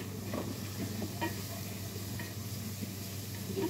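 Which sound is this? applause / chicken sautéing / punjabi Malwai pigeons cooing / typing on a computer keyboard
chicken sautéing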